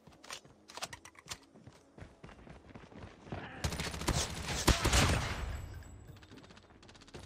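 QQ9 submachine gun hip-fired in COD Mobile, with sparse clicking early on, then a dense, loud burst of rapid automatic gunfire that peaks and slowly trails off.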